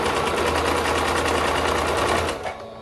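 A sewing machine runs a fast, steady stitch, sewing elastic along the edge of a knit romper. The close, loud mechanical whir stops abruptly near the end.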